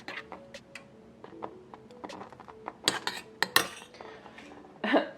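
A spoon stirs milk into coffee in a mug, giving light, irregular clinks and scrapes against the cup, close and fairly quiet, with a louder burst of clatter near the end.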